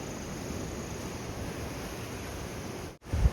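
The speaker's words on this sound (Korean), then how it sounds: "파도 소리를 들으면서 데크 산책로를 걸어갑니다." Ocean waves wash continuously along the Oeongchi coastal deck trail in Sokcho, a steady broadband surf hiss with some wind noise, ending in a brief gap and a muffled thump.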